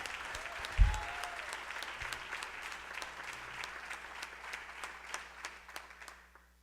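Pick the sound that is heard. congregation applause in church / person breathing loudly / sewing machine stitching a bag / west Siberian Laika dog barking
congregation applause in church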